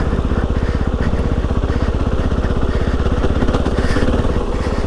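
Riding in second gear, a Kove 450 Rally dual sport motorcycle holds an even, loud engine pulse close by, a fast continuous throb with slight variation but no pauses.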